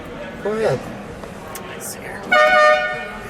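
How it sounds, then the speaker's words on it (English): Exotic air horns on the 1980 Dodge Mirada concept car, a Chrysler show car, give two short, loud multi-tone blasts spaced about two seconds apart, with a brief spoken voice nearby. "it actually has a set of like exotic air horns in it"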